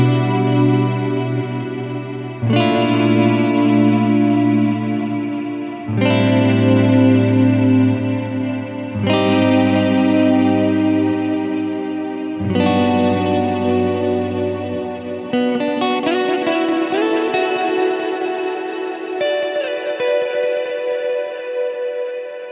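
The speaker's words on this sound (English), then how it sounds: "you can get a nice reverberant sound with two delays in the right, you know, ratio going on there" Electric guitar run through a Strymon DIG dual digital delay set to 12-bit mode with deep modulation, sustained chords ringing out in loud, washy, shimmering ambient repeats that swell and overlap.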